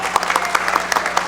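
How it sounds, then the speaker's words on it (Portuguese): An audience claps at a public service union event, a brisk burst of crowd applause with distinct sharp hand claps ringing through the hall for just over a second. "Uma salva de palmas para a Fanny, pessoal."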